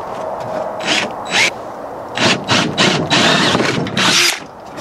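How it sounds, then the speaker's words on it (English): Power drill with a 25/64 bit boring into an aluminum jon boat gunwale, loud close whining bursts that start and stop several times, each run a few tenths of a second to a second long. "Next we're going to be using a 25/64 drill bit."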